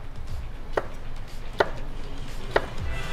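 A knife chopping vegetables on a cutting board, three crisp evenly spaced chops standing out close up against a quiet kitchen background.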